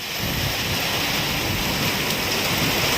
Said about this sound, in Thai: วันนี้ฝนตก